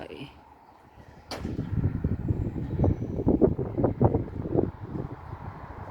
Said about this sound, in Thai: นี่คือสถานีรถไฟ